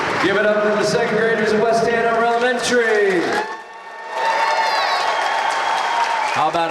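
Applause from the audience for West Hanover Elementary second graders at the Capitol, a clapping crowd heard beneath a loud announcer's voice that dominates the first half, with the clapping more exposed toward the end.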